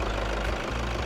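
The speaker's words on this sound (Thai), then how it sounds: "อ่านี่เป็นเสียงเครื่องแบบไม่เปิดแอร์นะเสียงเครื่องพร้อมมาก" A 2012 Toyota Fortuner 3.0V engine idles steadily nearby with the air conditioning off, a low, even rumble with a faint knocking texture and no other sounds.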